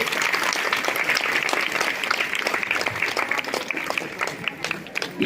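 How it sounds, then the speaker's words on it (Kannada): A crowd at a religious discourse gives loud, sustained applause for a revered swamiji, dense clapping filling the space, with voices audible beneath it. "ಎಲ್ಲರೂ ಕೂಡ ಭಕ್ತಿಯಿಂದ ನಮಸ್ಕರಿಸುತ್ತಾ ಜೋರಾದ ಚಪ್ಪಾಳೆಯನ್ನ"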